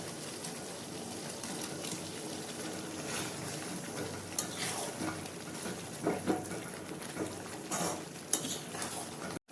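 Fried chicken pakoras tipped into chilli chicken sauce in a pan, giving a continuous sizzle with scraping stirs and small utensil clinks close by.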